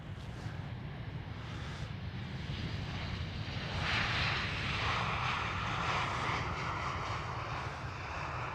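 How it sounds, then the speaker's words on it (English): Ryanair Boeing 737-800 airliner at Amsterdam Schiphol, a steady broad jet roar heard from a distance that swells slightly midway, mixed with wind buffeting. "Thank you for flying Ryanair. 737-800."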